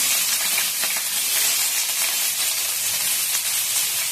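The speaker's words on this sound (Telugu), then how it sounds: "ఆయిల్ వేసుకుంటున్నా. కొంచెం బిర్యానీ ఆకు, 2 ఉల్లిగడ్డలు సన్నగా తరుపుకొని" Bay leaf and finely chopped onions sizzle steadily in hot oil in a home kitchen while chicken fry is being made, a dense, even hiss and crackle held close and loud for the whole stretch with no talking.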